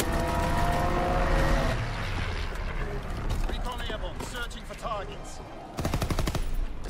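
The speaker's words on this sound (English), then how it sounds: "Strafing run inbound." Strafing-run gunfire in the Call of Duty WW2 video game, a loud, dense roar of rapid shots and blasts that ends in a sharp burst of automatic fire, with game voices heard throughout.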